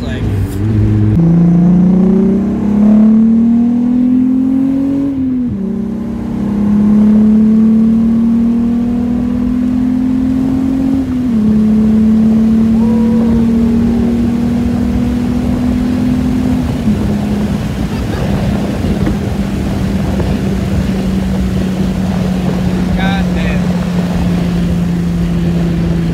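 A VW-style VR6 engine car accelerates hard from low revs, its rising engine note climbing and shifting through gears continuously over most of the run, with people talking inside the cabin throughout.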